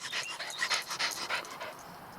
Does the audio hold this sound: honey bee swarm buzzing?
no